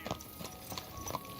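Horse hooves clip-clopping in Kingdom Come Deliverance 2, a quick run of close, crisp hoof strikes in a rapid uneven rhythm over faint background tone.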